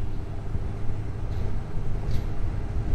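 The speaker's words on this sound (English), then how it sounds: "A few lorries, we'll get past them" Heavy lorries rumble past a Honda CB1000R motorcycle on an early-morning road near a quarry, a steady low traffic drone with no talk.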